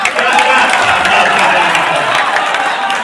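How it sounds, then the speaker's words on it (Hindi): A crowd at a devotional singing gathering breaks into loud, steady clapping and cheering, a dense wash of applause that holds throughout with no clear breaks. "एक बार जोर तालियां बजाएं।"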